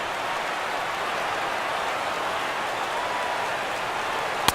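A packed Yankee Stadium crowd of over 50,000 in the baseball video game MLB The Show 17 roars steadily on their feet, a dense, even wash of cheering noise with no break and no clear voices.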